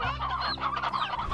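Chickens cluck in a Slime Rancher farm, several hens overlapping in a dense, close, steady chatter over a short stretch with no talk.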